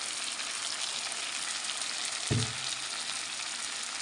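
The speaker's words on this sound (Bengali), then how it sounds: "এবার আমি লাস্টে একটু কাঁচা সরষের তেল দেবো সাইড থেকে" A hilsa fish head curry sizzles with a steady, close frying hiss, and one short low thump breaks in partway as raw mustard oil goes in, with no talking.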